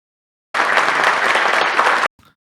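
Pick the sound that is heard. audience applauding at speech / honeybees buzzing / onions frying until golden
audience applauding at speech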